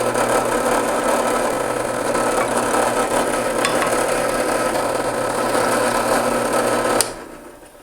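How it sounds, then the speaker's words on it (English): A steady, continuous whir of a small drill with a 1/16 inch bit boring pilot holes in wooden fishing-lure stock, running at constant speed, close by, for several seconds before stopping abruptly. "I can drill pilot holes. And I'm using a 1/16 inch bit."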